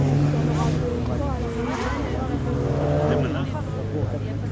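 A Peugeot 205 running a slalom course at the 2016 Slalom du Mortanais, its engine loud and close, revs climbing and dropping in repeated sweeps as it works through the gates.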